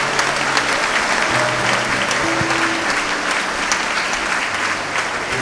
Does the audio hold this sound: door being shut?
no